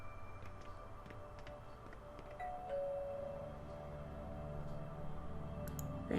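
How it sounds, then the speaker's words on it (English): A doorbell rings at a third-floor flat in an apartment building, a soft ding-dong tone chiming quietly over room hum, with no talking. "Ring doorbell."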